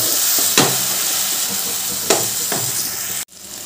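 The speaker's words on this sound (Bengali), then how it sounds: "লঙ্কা গুঁড়োটা এবার ভালো করে মিশিয়ে নিচ্ছি" Chili powder being stirred into cauliflower masala as it fries, a steady loud sizzle with a few scraping spoon strokes across the pan, cutting off abruptly near the end.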